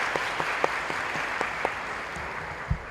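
A conference audience applauds in a hall, a steady wash of clapping with a few sharper claps standing out, moderately loud throughout.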